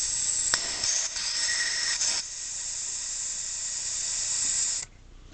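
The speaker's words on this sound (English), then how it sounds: "insert compressed air into the vent to pressurize the oil chamber" Compressed air hisses steadily into the vent of a chainsaw's bar-oil chamber, a loud, continuous close-up rush lasting several seconds before cutting off abruptly.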